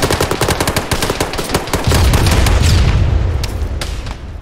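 Rapid bursts of automatic gunfire and heavy booms in an Arma 3 military firefight, loud and close, with rattling volleys that thin out into scattered shots toward the end.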